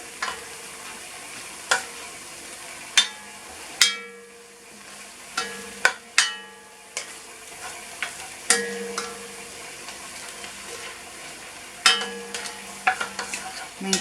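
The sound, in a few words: stirring oyster mushrooms frying in a pan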